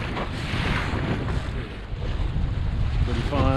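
A sailboat runs through wind and choppy water, with steady rushing wind buffeting the microphone and water washing against the hull, loud and close throughout.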